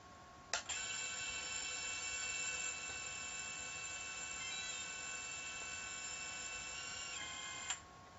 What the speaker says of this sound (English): You can hear the buzzer going off.